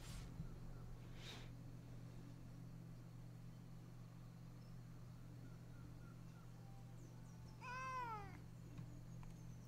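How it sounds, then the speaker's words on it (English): A cat meows once, a short rising-then-falling call fairly close, over a steady low background hum with no talking. "Kitty."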